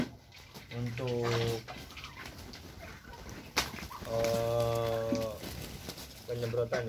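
Cattle on a livestock farm moo in long, deep, tonal calls, three clear lowing bursts close by, with a male bull in heat among them and faint background noise between calls.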